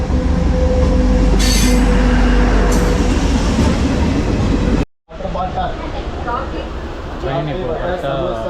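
A train arrives at Salem Town railway station, rumbling loudly with squealing wheels and rattling cars, then after a brief cut the clatter continues with people talking nearby.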